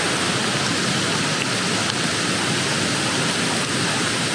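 Steady, dense hiss of rain falling, continuous and even throughout with no voices.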